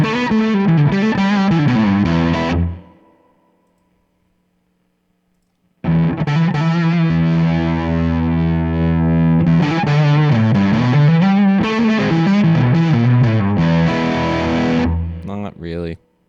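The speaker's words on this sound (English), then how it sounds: "Let's see how that sounds with the fuzz." Electric guitar played through a fuzz pedal in a digital rig, sustained distorted chords and lines ringing loud and close, broken by a roughly three-second silent gap before the playing resumes and trails off at the end.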